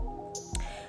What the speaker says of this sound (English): Continuing to dip it in and out of that water mixture and strain the water out as I go.